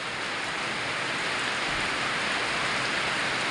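A downpour of heavy rain roars continuously close by, a thick, even wash of drumming drops with no break and no voices.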